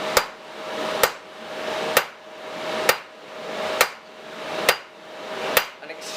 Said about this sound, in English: I lower my angle and hit where this forging starts and stops